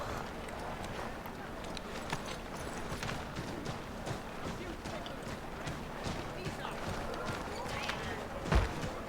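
Horse hooves in the video game Assassin's Creed III: a steady, rapid clip-clop of a galloping horse, continuous and moderately loud over ambient game sounds, with a voice talking over it.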